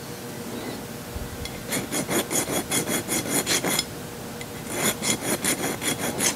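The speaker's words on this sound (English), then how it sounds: "This file is sharp now." A sharp metal file rasps a burr off the intake of a five-cylinder radial engine in quick rhythmic forward strokes, about a dozen in one burst, a pause, then another short run of strokes, close and clear with no speech.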